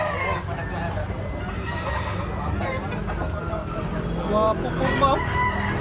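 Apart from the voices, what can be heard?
bullstag rooster crowing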